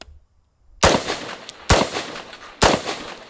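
Three loud, sharp gunshots from a full-length 5.56 AR rifle fitted with a muzzle brake, spaced roughly a second apart, each with a booming tail at an outdoor range.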